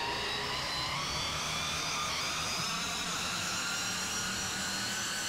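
Airbus A330 jet engines roar at takeoff in the FSX flight simulator game, a loud, steady, broadband rush with no talking over it.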